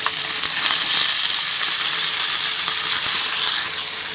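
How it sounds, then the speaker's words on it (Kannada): Chicken frying in a hot pan of tempering spices, a loud continuous hiss and sizzle throughout with no voices. "ಈಗ ಚಿಕನ್ ಹಾಕೋಣ."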